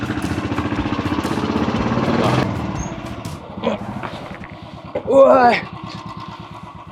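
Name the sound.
motorcycle riding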